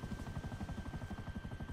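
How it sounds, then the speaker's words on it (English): A military helicopter flies in the video game GTA 5, its rotor chopping in a fast, even pulse over a steady engine whine, continuous and fairly close. "The military chopper."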